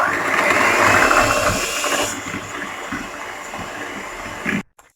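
Flan ingredients with sugar and vanilla sugar are beaten together by a whirring electric mixer, loud and steady at first, then lower and quieter before stopping abruptly near the end.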